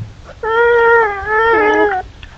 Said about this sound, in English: It's like a young beaver there having a little bit of a tantrum with one of the parents.